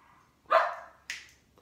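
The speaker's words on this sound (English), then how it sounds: "The dogs are certainly excited about this." Excited dogs in a room give two sharp barks or yips in quick succession, close and fairly loud against a quiet background, with no one talking.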